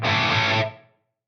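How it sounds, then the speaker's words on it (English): A single electric guitar chord rings out through an enhancer effect with very little reverb, bright and distorted, then decays quickly into silence. "this is the enhancer with way less reverb going on"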